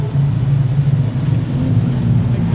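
Production sedan race cars roar together at Kingaroy Speedway as the A-Main restarts, a dense, loud, continuous engine drone with no break and no talk over it.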